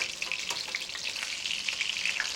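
Pork cutlets fry in a shallow mix of olive oil and vegetable oil at medium heat, a continuous close bubbling sizzle dotted with small crackles and spits throughout.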